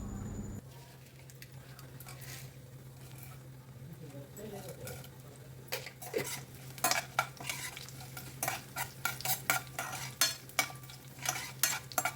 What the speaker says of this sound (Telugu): ఇప్పుడు 1 స్పూను ఆవాలు, స్పూను జీలకర్ర, స్పూను మినపప్పు, స్పూను శనగపప్పు వేసి దోరగా వేయించాలండి